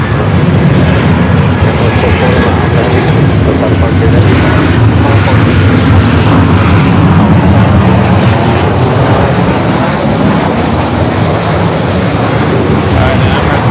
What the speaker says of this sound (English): Alright, Emirates already cleared for takeoff